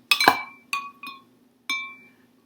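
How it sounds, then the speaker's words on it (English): A single ice cube dropped into a glass, a sharp bright clink followed by several smaller bouncing clinks that ring briefly and fade, close and clear with no talking. "I'm going to drop 1 ice cube into this glass and 1 ice cube into this glass"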